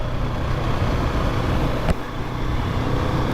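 A Husqvarna 701 Supermoto single-cylinder engine chugs steadily in second gear, loud and close with a brief throttle blip partway through over continuous engine and road noise.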